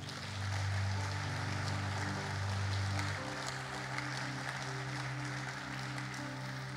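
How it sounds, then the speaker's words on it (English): A church congregation at a Sunday morning service applauding the families, a dense, steady clapping that fills the room, alone with no talk. "Would you give these families a round of applause?"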